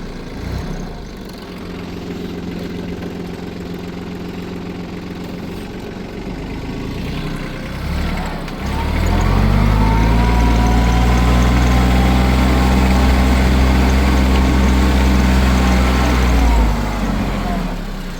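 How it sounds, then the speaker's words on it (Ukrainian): A tractor engine pulling a plough through a field rumbles low and steady, then swells louder and heavier midway as the load increases, with strong deep vibration and a faint voice early on. "От так працює плуг"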